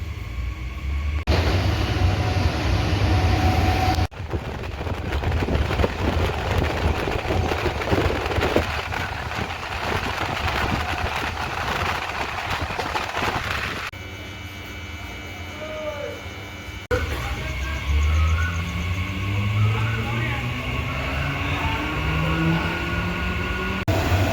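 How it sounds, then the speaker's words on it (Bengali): A Canning-bound down local train runs between stations near Kolkata, with a steady rumble and rattle heard from inside the carriage, shifting in tone along the run, and a brief rising whine toward the end. "ক্যানিং ডাউন ট্রেনে বিদ্যাধরপুরের পরের স্টেশন কালিকাপুর, এরপরে আসবে চাম্পাহাটি, তারপরে আসবে আমাদের পিয়ালি।"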